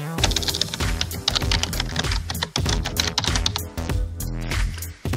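Fingers type an email address on a computer keyboard, a brisk, irregular run of close, crisp key clicks with brief pauses between bursts.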